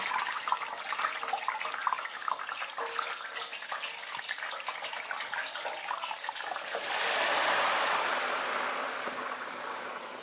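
Moist chicken wings drop into hot oil in a deep fryer basket, giving a dense, steady crackling sizzle that swells louder and broader near the end as the wet skin hits the oil, with no talking.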